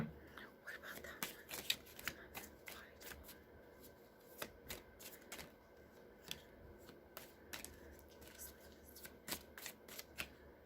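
A tarot card deck being shuffled close up, with repeated crisp riffling and snapping bursts in an irregular rhythm across the whole stretch, and faint low voices in the background.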